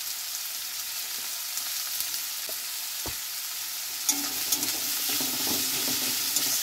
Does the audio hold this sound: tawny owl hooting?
no